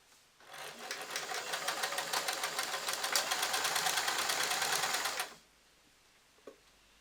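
A domestic sewing machine stitches a repair seam in a pair of trousers, a close, steady rapid clatter that runs for about five seconds before stopping abruptly into a quiet room.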